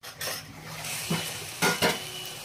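Brinjal pieces and fried onions in oil get stirred in a pot: several sharp scraping clinks of a spoon against metal over a continuous sizzle, close and fairly loud, with no talking.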